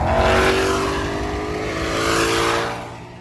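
A 2020 Ford Mustang Shelby GT500 with its 5.2-liter supercharged Predator V8 pulls hard on a highway, a loud, steady engine roar rising and easing over a few seconds, close and alone.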